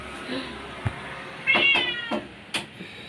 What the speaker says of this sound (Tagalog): At ang kuting ho!